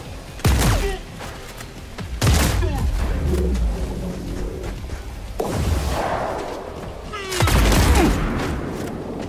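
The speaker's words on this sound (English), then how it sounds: "Good shotgun." Shotgun blasts in the video game Paint The Town Red, four heavy booming shots spaced a couple of seconds apart, loud and close, with a brief voice between them.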